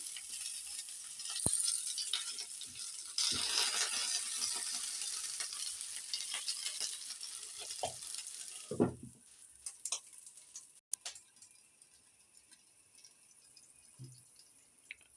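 Food sizzling and frying in a pan, a steady hiss that fades partway through, leaving quieter pops, drips and occasional clicks.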